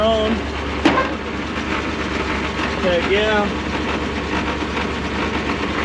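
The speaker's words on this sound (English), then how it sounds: "Sitting here idling all on her own." An antique tow truck's engine idles on its own with a steady, low rumble, while someone speaks briefly over it.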